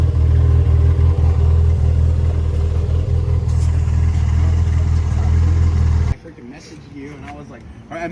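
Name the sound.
Toyota MR2 SW20 with 5S-GTE engine running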